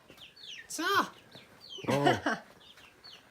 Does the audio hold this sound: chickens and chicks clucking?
yes